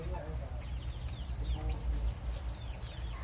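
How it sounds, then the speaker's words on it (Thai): Silkie hens brooding eggs cluck and murmur in a farmyard, with a low rumbling background and scattered soft bird calls throughout. "แม่พันธุ์ไก่ซิลกี้นะครับฟักไข่เองนะครับ"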